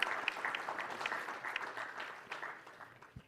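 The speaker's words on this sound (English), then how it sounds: "a round of applause for that." A crowd applauds steadily at the NRFA International Conference 2024, dense, even clapping throughout, fairly distant-sounding, then it tapers off near the end.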